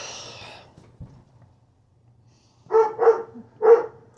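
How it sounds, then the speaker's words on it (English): A dog barks three times in quick succession from nearby, the barks clear and loud after a stretch of near silence with faint household noise in a kitchen where sauce simmers. "go yell at my dog for barking"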